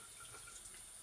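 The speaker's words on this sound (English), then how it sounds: "just get your tap water running" Tap water runs steadily from a bathroom or kitchen faucet, a faint continuous hiss and splash with no voices over it.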